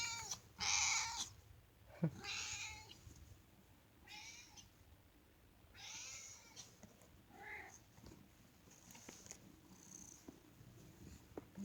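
A house cat meows several times in close, bright calls spread over about twelve seconds, with a soft purr rumbling between them in a quiet indoor room.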